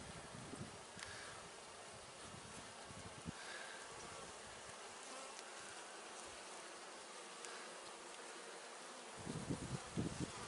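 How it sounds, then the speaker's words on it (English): A dense, steady hum of many honey bees, nurse bees on a brood frame of a hive, buzzing close by, continuous and soft, with a few louder passes near the end. "what we have on here are the nurse bees taking care of the brood here."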